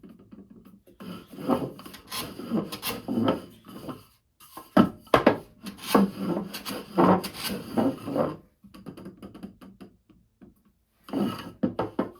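Foot stool legs dragged across a blade for leveling: scraping, rasping bursts in irregular groups with short pauses between them, close and moderately loud, no talk.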